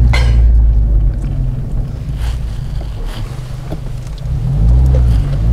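An Abarth 124 Spider with 240 hp accelerates, its engine a loud, continuous low rumble mixed with heavy wind noise, rising slightly toward the end.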